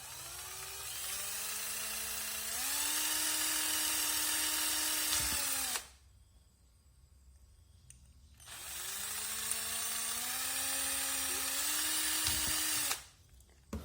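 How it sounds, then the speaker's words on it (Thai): A high-pitched electric drill whines steadily for several seconds, stops, then runs again for another long burst, close and loud. "เดี๋ยวเจาะให้ดูก็ได้"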